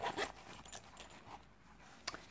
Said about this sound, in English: unzip it from the bottom